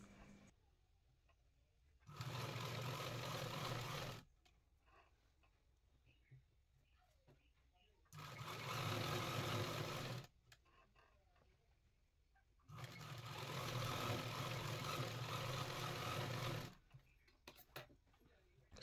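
A sewing machine runs a double line of stitching over a gown seam in three sustained, fairly faint bursts of steady whirring, with quiet pauses between them.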